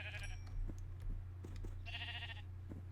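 Two short blocky bleats from sheep in Minecraft, close and clear over a steady low hum, with faint clicks and scattered game sounds between them.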